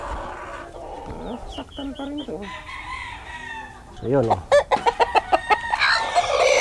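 Chickens disturbed by a running cat cluck and crow nearby, with agitated calls building to a rapid burst of loud clucks; someone talks briefly over them.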